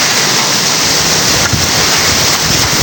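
Strong wind roars continuously, a loud broadband rush like gusts buffeting nearby, with no talking.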